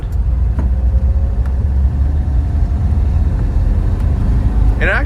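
A 1974 VW Kombi camper's air-cooled engine drones steadily from inside the cabin while driving in first gear, a low continuous rumble with light rattles and a brief mechanical whine near the end.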